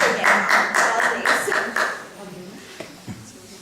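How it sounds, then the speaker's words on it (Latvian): A press conference audience claps for the minister in a short burst of applause that fades out after about two seconds, followed by a few scattered sounds and quiet murmuring. "Aplausi ministram."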